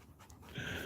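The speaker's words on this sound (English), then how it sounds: "Australian cattle dogs." Australian cattle dog panting close by, a steady soft breathy rhythm that grows a little louder toward the end, with no talk over it.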